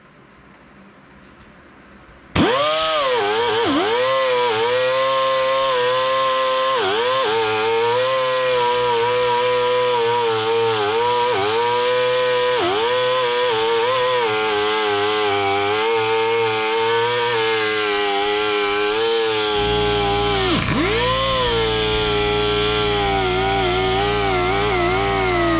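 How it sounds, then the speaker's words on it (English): An air-powered die grinder fitted with a wire wheel scrubs a Yost shop vise under restoration, starting abruptly, then a loud, continuous high whine with dips in pitch as it bites into the metal, close and alone. "going to take the die grinder with the wire wheel and clean off as much as I can"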